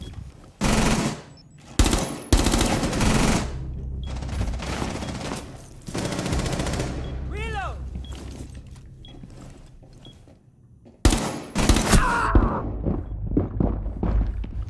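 Rapid automatic gunfire and bursts of shots in a Rainbow Six Siege ranked match, loud and close, with sharp volleys separated by short gaps and other gameplay clatter in between.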